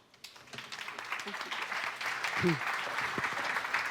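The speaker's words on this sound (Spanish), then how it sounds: "te han aplaudido y él no" Applause from a gathering at a regional government assistance meeting, a steady wash of clapping building over a few seconds, with scattered voices and a few low murmurs underneath.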